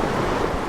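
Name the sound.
ferocious floodwater flowing in Flagstaff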